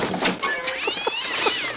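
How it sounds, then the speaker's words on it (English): A cat meows several times in short, rising cries amid a noisy room, partly under background voices. "Somebody want to catch that cat?"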